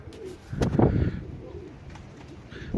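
Pigeon cooing outdoors in windy weather near a loft, a few low soft coos rising mid-clip, fairly close, with wind noise and no talk.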